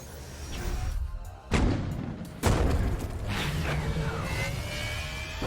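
A spaceship crash landing in the video game Star Renegades: a rumbling, roaring descent broken by two heavy booming impacts, then a sustained loud rush of grinding, mechanical noise.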